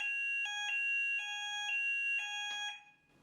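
An electronic alarm sounds in repeated high, piercing tonal pulses, loud and alone, then cuts off near the end.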